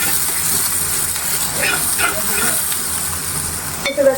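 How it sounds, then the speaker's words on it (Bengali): Ginger garlic paste fries in a clay pot, giving off a steady, loud sizzle with some stirring scrapes and a brief clatter near the end. "পেস্টটা একটু হালকা ভেজে নিয়ে আমি আদা রসুনের পেস্ট দিয়ে দিলাম"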